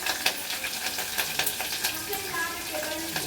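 Mustard seeds, garlic paste and green chilies frying in a pan, a busy crackling sizzle with stirring scrapes and small pops, close and moderately loud, with faint tonal sounds in the background.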